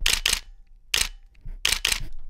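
Shutter of a Nikon Zfc mirrorless camera firing five times in two quick pairs and a single, each a short mechanical clunk, close and crisp with silence between.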